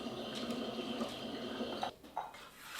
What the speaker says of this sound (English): sorry for my dishwasher noise